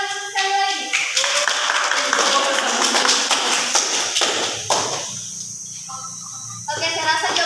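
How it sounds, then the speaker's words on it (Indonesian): Students clapping in a classroom lesson, a burst of quick, close hand claps from a small group that fades out, with voices talking over the start and end. "Tepuk tangan sekali lagi."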